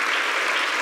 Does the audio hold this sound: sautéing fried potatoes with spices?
no